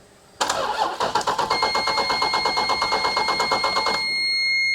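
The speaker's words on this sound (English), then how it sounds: "Well, it cranks." An SRT car engine cranks over with a steady rapid starter rhythm for several seconds, loud and close, without catching, as a high whine runs alongside it.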